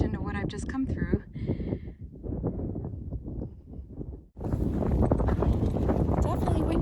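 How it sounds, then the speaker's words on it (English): Strong wind on an open hiking trail through fields buffets the microphone with a loud, steady roar that kicks in suddenly after a stretch of someone talking and continues to the end. "Definitely windy out here."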